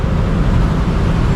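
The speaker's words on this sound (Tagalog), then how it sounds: "Daming sasakyan, busy talaga dito sa Manila." Dense Manila road traffic on North Avenue, Quezon City: a loud, steady wash of car and engine rumble with continuous low roar and no pauses.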